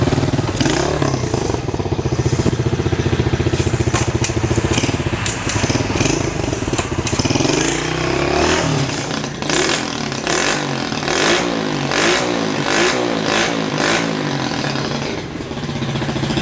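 A Mini Trail HSX 110 motorcycle engine runs close by, loud and raspy, with a continuous buzzing idle that rises into repeated revs and throttle blips, plus some mechanical clatter.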